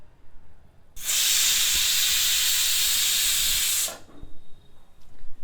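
A kitchen pressure cooker on a stovetop gives one loud, steady hiss of escaping steam lasting about three seconds, starting and stopping abruptly, with quiet surroundings before and after.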